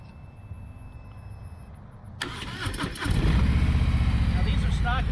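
Harley-Davidson Low Rider and Fat Boy motorcycles on stock exhaust fire up one after another: quiet ambience, a starter crank, then a loud deep idling rumble that fills the rest, with voices faintly underneath.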